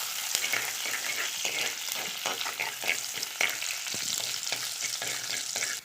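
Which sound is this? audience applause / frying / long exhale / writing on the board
frying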